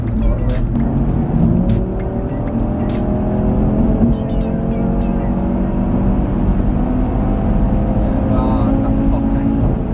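An Audi RS3 8V facelift fitted with equal-length mid pipes drones loudly and steadily from its exhaust as it pulls and climbs in pitch while driving.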